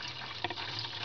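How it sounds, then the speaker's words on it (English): Water collected from a dehumidifier pours into a measuring container, a soft continuous splash and trickle with one brief stronger slosh, fairly quiet and close, no talking. "so I just dumped another 500 milliliters from there into our measuring thing."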